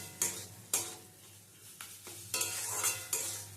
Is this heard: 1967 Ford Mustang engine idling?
no